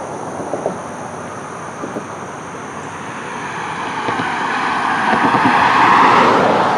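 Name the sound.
cars passing loudly on road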